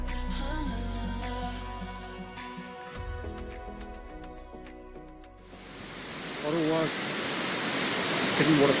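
Rushing water at Sekumpul waterfall in Bali gives a steady, broad roar that swells louder in the second half, with music over the first part and a voice speaking.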